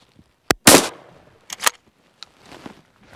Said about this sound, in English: never shot a shotgun this short at this far distance